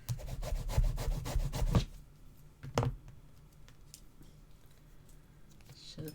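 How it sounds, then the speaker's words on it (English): Dry rubbing of fingers over the back of a paper card piece while crafting a card, a quick burst of scratchy strokes for about two seconds, then a single short rub later, close and fairly soft. "I'm just going to place it down and rub at the back."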